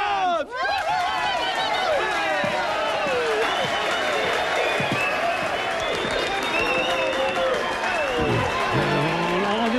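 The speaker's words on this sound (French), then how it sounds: "on l'applaudit bien fort" Audience applauding loudly at an evening gala, dense sustained clapping with a busy crowd and voices over it throughout, near and continuous.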